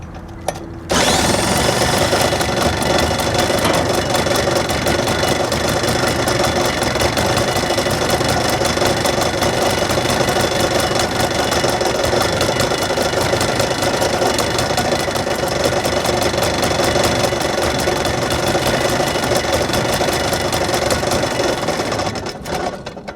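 A P.E. 210 generator engine runs steadily after its first start-up in a long time, a loud, continuous, fast mechanical chatter close by that holds evenly for over twenty seconds with no talking.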